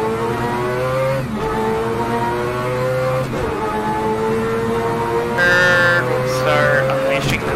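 An engine revs up steadily, the rising tone of a game car being pushed to go all out, loud and continuous throughout with a brief surge near the end.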